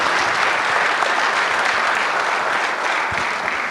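Loud, steady applause from a seminar audience after a business talk on pitching for profits, dense clapping filling the room without a break.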